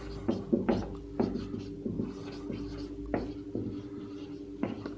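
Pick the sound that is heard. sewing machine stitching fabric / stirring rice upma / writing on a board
writing on a board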